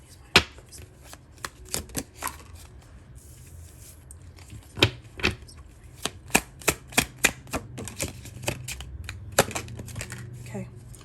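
Tarot cards being shuffled close by: a run of sharp riffling snaps and flicks, irregular at first and then in quicker bursts, with a faint voice in the background.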